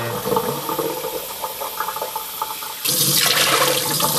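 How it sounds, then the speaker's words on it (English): Water splashes and pours into a pot of rice for congee, a steady running stream that turns louder and brighter partway through, close and alone. "I'll do about 8 cups of water in with my congee now"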